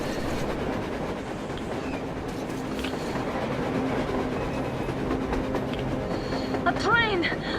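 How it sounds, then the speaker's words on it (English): A train in the video game Metro Exodus rolls along on the surface, a steady rumbling clatter that fills the whole stretch and swells slightly near the end with a brief squealing whine. "A train! A damn train on the surface!"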